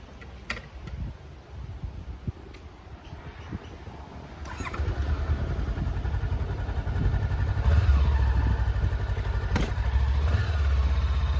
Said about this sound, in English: now that we've pretty much done everything, let's take it for a ride